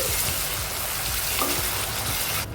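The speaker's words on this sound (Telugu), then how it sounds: "ఆయిల్లో బాగా ఫ్రై చేసుకోవాలండి" Small pieces of tomato frying in oil, a dense, steady hiss and crackle like light rain, close and continuous, cutting out abruptly at the end.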